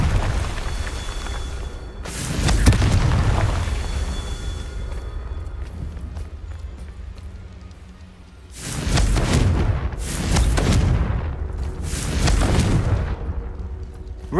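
Confringo fire-spell blasts in Hogwarts Legacy on PS5: deep booming explosions that roll out and rumble as they decay, several loud hits spaced across the stretch with lower crackling in between.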